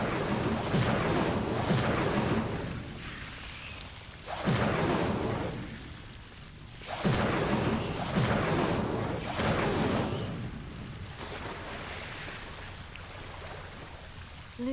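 A fire spell cast in Hogwarts Legacy, with repeated whooshing bursts of flame and crackling, fairly loud, rising and falling in waves over a steady roaring background.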